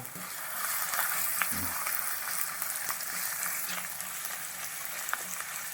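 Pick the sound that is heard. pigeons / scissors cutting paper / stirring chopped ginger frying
stirring chopped ginger frying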